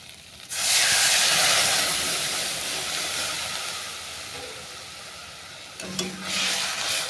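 Water hits a hot pan of spiced fish curry with a sudden loud hiss of steam that slowly fades, followed near the end by a brief clatter and renewed burst of sizzling.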